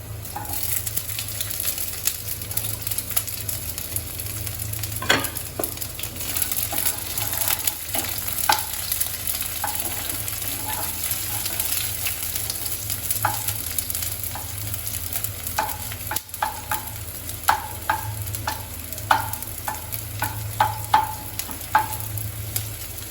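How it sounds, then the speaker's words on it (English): Onions frying in a hot pan for restaurant-style noodles, a steady close sizzle throughout with scattered scraping and clicking as a utensil stirs them against the pan. "Now we'll add the onions."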